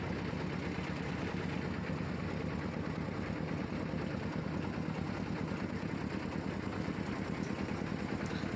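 A large wooden passenger boat's engine runs in a steady, loud, low drone. The throb stays even throughout with no pauses, and no voices are heard.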